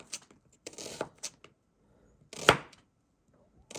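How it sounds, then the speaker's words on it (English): Knife slicing red onion into thin slices on a cutting board, a series of sharp, close chopping taps at irregular intervals with quiet gaps between them. "I'm just slicing up some little red onion to add in with the peppers."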